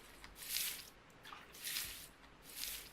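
In the Gold Rush video game, a gold pan is dipped and swished back and forth in water, making three soft, rhythmic sloshing swells at low volume.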